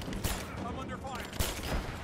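Gunfire in the video game Rise of the Tomb Raider, a few loud sharp shots rising out of dense combat noise over a steady game background, with a voice speaking across the short burst.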